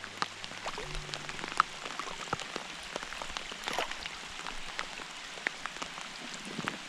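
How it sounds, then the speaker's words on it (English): Light rain falling at a backcountry lake in Glacier National Park, a soft steady patter of scattered drops ticking close by with a faint continuous hiss beneath, no voices. "A little bit of rain."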